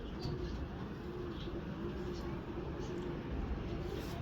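Champion breeding pigeons coo softly and continuously amid a steady low rumbling background, with faint chirps scattered over the whole stretch.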